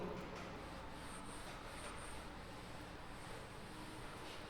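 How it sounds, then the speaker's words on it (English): A classroom board being erased gives a steady, continuous rubbing scrape, faint and fairly even throughout with no speech over it. "so I'm rubbing the board"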